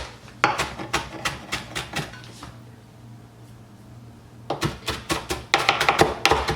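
A knife chopping cilantro on a wooden cutting board, bursts of quick, crisp, close taps that pause for a second and then resume faster.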